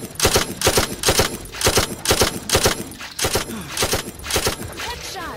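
Rapid video-game gunfire mowing down zombies, repeated loud bursts of shots in a steady rhythm, close and dominant, with an excited voice calling out over the shooting.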